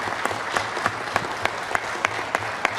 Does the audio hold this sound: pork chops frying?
no